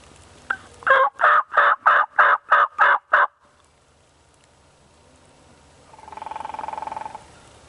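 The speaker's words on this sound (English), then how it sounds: "We got a bunch of them gobbling around us now." Wild turkeys gobble during a Pennsylvania spring gobbler hunt: a loud run of eight rapid, rhythmic pulses nearby, then silence, then a steadier, softer drawn-out call.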